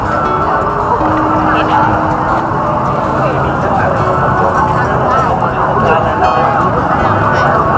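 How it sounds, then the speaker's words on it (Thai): Loud emergency vehicle siren sounding through a busy night market near Phra Pathom Chedi, its wail continuous over crowd bustle and market chatter. "เสียงรถหวอดังมาก"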